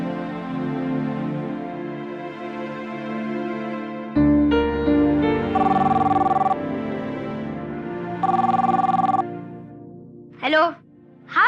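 A home telephone rings in two short, fairly loud bursts over background music, followed by a few faint knocks or clicks.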